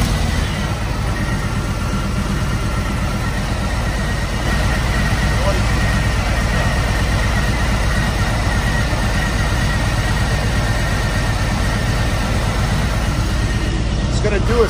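A 2020 Harley-Davidson Road Glide Special with a 114 engine idles steadily on a dyno while warming up, a close, continuous low rumble that holds for the whole stretch with little change.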